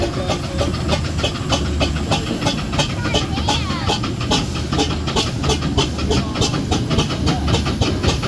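A continuous hissing, chuffing mechanical rumble with a steady rhythmic beat from full-size steam traction engines working close by at a steam rally, loud and unbroken.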